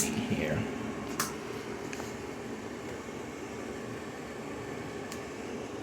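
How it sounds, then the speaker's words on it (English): A fan runs beside an LG 6000 BTU air conditioner under repair, giving a steady, even whoosh with a few faint clicks and knocks near the start. "the noise you can hear in the background is not the air conditioner, but the fan."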